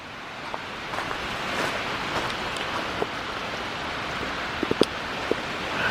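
Rain falls steadily outdoors at a home during a hurricane, a close, even hiss of downpour with scattered sharper drips and gusty wind noise, and no voices.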